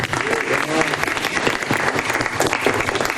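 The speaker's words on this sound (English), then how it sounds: "so let's clap for them" An audience applauds the speakers after a question-and-answer session, a full, busy wash of clapping that holds steady at close range throughout.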